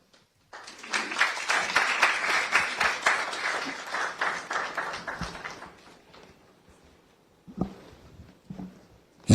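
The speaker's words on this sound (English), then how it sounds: "You see, this kind of epileptic applause" Audience applause at a school quiz competition stage event, a burst of dense clapping that swells quickly, stays loud for several seconds, then thins out and fades, leaving scattered claps and room noise at the end.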